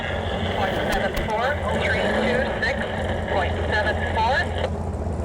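A 7,500-pound open modified tractor with twin big block Chevy engines making 1,600 horsepower roars continuously at a tractor pulling competition, loud and steady, while an announcer talks over it.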